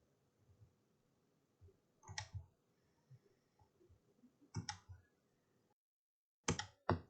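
Mouse clicks while working in DesignSpark Mechanical CAD software, three or four sharp, quiet clicks spaced apart, a double click near the end, over a faint low background hum.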